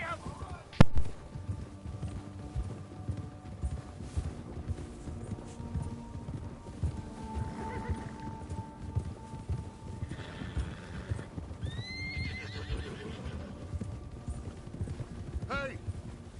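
Horses gallop in a video game, their hooves clip-clopping in a continuous rhythmic patter, with a sharp crack near the start and a few whinnies and neighs rising over the hoofbeats at a moderate distance.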